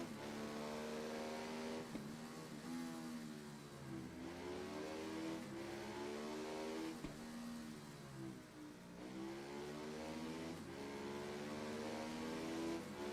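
Motorcycle engine in the racing game Ride 3, a steady high-pitched revving whine that climbs through gears with brief dips at shifts, loud and continuous down a straight.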